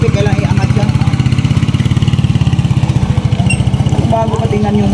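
Motorcycle engine running at a steady idle up close, a fast regular low putter throughout, with faint voices in the background.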